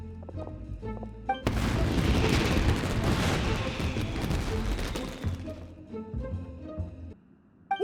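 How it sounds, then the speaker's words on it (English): In the game Genshin Impact, a fireworks display erupts in a sustained, loud barrage of booming bursts and crackle lasting several seconds, then fades out into quieter game sound. "Euthymia, this is turning into a bit of a fireworks display"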